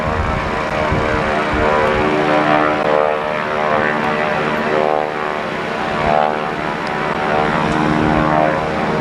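A Stearman biplane's radial engine roars loudly and continuously during an aerobatic dive at a 1986 Daytona Beach airshow, its pitch swelling and easing as the plane picks up speed.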